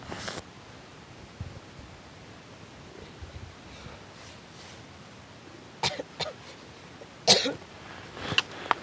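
Someone coughs a few times in the cold at about 5,400 metres of altitude, short rough bursts close to the microphone over faint wind-like rustling.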